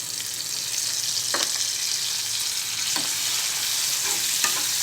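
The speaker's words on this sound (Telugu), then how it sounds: "ఇది పచ్చివాసన పోయే వరకు ఫ్రై చేసుకోవాలి" Onion paste fries in a pan with curry leaves and green chillies, giving a steady bright sizzle broken by a few soft scraping stirs, fairly close and with no talking.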